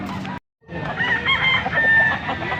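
A rooster crows loudly and close by at a bird market in Pampanga, one drawn-out cock-a-doodle-doo after a brief gap of silence, with farmyard fowl noise around it.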